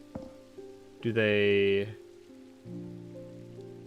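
Rain falls steadily in the video game Strange Antiquities, a soft continuous patter running beneath a voice that briefly speaks and then continues over a low tonal hum.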